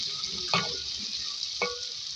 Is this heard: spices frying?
yes